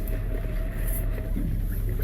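A 2019 Northriver boat engine spools up after the key is turned, giving a loud, steady low rumble with a faint whine held evenly for the whole stretch.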